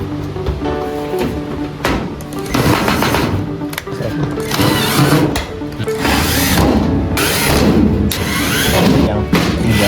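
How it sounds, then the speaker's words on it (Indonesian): Bolts being fastened while assembling a steel hijab cabinet, heard as dense, rapid rattling and clattering bursts of metal and tool noise, fairly loud and close, with some voice underneath. "Kita mulai pemasangan baut."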